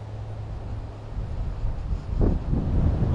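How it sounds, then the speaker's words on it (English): Strong wind gusts buffet a DJI Mini 2 drone on the St. Augustine, Florida coast, a steady low rumble that swells into heavier, louder gusts toward the end, with no talk. "Fighting the wind now. I'm going backwards into the wind."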